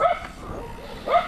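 A dog lets out two short, close barks, one at the start and one near the end, with faint background noise between them.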